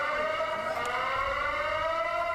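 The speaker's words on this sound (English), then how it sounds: "That siren's getting to me." A civil defense siren wails in a steady, sustained tone with layered harmonics, holding loud and constant throughout without any voices.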